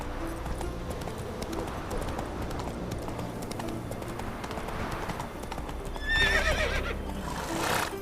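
Roach, the horse in The Witcher 3: Wild Hunt, gallops with rapid, continuous hoofbeats and then lets out a loud, close neigh near the end, set over game ambience.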